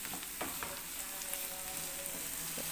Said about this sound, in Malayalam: ഞാൻ സവാള ഇടുകയാണ്.